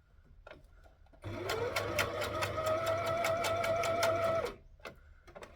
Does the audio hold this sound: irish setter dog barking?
no